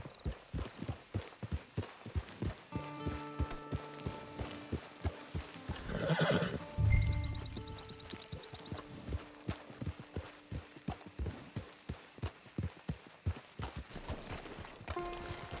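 In Red Dead Redemption 2, regular hoofbeats clop steadily throughout, and midway a horse lets out a loud, drawn-out whinny, with tonal music-like sounds layered underneath.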